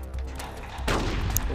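Gunfire in Metal Gear Solid: Twin Snakes, with a few faint shots followed by one louder, sharp burst of gunfire and a brief metallic ping, all close and without speech.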